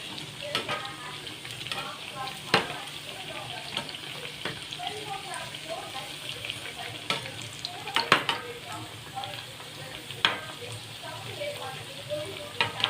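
Leafy greens with mint and coriander fry in hot oil, a continuous crackling sizzle broken by scraping, clinking stirs of a utensil against the pan, heard close up.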